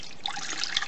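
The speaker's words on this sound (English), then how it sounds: "pour the veggie stock in" Vegetable stock trickles and splashes steadily into a cooking pan for under a second, close by and alone.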